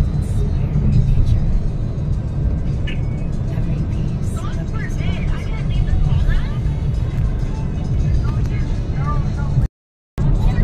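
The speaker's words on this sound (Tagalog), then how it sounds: "Yan na yung mga sasakyan." Car traffic on a road in San Francisco heading toward Treasure Island, a heavy, continuous low rumble of passing vehicles heard from inside a moving car, with voices talking over it.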